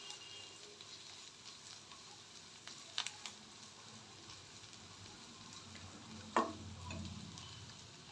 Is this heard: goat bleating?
no